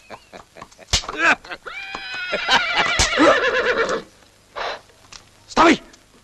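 A horse gives a loud, close, quavering whinny in the middle, framed by several short, sharp outbursts before and after it.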